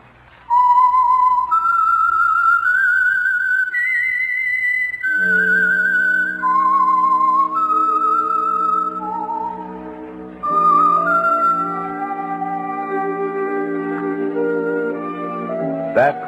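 A lone whistler carries a slow, eerie melody, the theme of the old-time radio program The Whistler, later joined by a sustained orchestral chord swelling underneath; clear and close with no speech.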